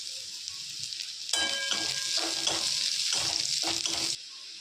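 Chopped garlic hits hot oil with onions already frying, a close steady sizzle that jumps sharply louder, crackles with stirring for about three seconds, then drops back to a quieter background hiss.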